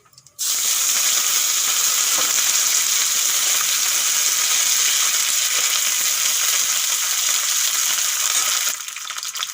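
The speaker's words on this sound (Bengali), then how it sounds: "মাছের তেলগুলো আমি একটু কেটে নিয়েছি এখন দিয়ে দেবো তেলের উপরে" Pieces of fish fat drop into hot oil with whole garam masala and a bay leaf, setting off a loud, steady, close sizzle that holds evenly throughout and eases slightly at the very end.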